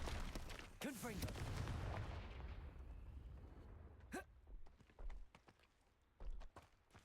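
A Confringo spell explosion from a video game, a sharp blast burst near the start that trails off into rumbling debris, followed by scattered thuds and short impacts.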